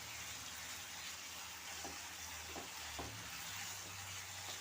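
Ground fried-onion paste goes into a pan for garlic chicken and sets off a faint, even sizzle, with a few light clinks and stirs scattered through it.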